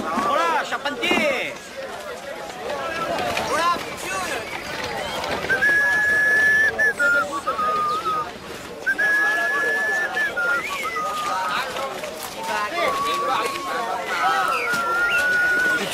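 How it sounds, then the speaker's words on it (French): A person whistles a tune in clear, high tones through the second half, over steady background noise and people talking. "Tu sifflotes"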